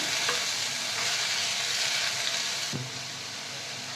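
Butter-fried cauliflower florets, carrot and green beans being stirred in a pan, a steady broadband sizzle with a few soft spoon scrapes and one low knock near the end, no voices.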